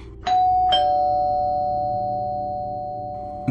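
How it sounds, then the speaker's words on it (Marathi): A doorbell chimes twice in quick succession, then a clear electronic tone rings on and slowly fades over a few seconds. No one speaks. "दाराची बेल वाजली."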